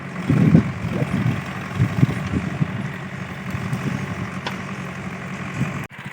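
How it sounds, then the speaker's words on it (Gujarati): A tractor engine idles with a low, steady rumble in a village setting, continuous and moderately close, with no talking over it until it cuts off abruptly at the end. "આવી ગયું ટ્રેક્ટર"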